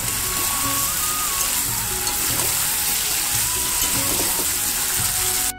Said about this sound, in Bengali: আমি এবার আলুগুলো দিয়ে দেবো ওর সঙ্গে, দিয়ে এবার ভালো করে নেড়ে দেবো।